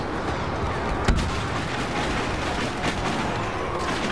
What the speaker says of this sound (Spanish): Vamos a lanzar granada ahí.